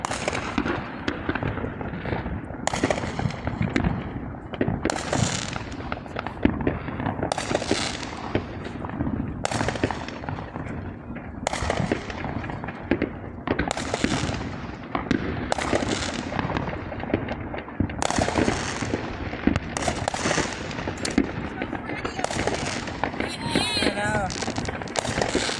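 New Year fireworks and firecrackers burst across South Texas neighborhoods, a dense, continuous barrage of loud cracks and booms from near and far, with voices faintly mixed in.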